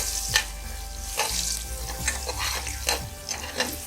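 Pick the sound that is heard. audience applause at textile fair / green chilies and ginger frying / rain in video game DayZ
green chilies and ginger frying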